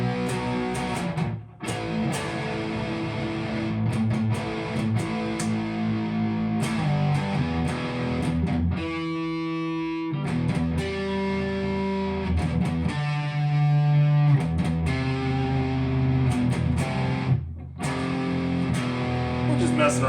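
An electric guitar is played through heavy distortion in a casual practice session, with thick sustained chords and riffs, a few brief gaps, and a loud, saturated tone throughout.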